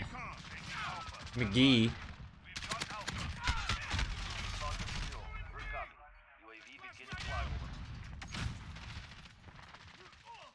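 Gunfire bursts in the survival video game Rust, loud cracks clustered early then scattered shots through the clip, heard under a player's voice talking.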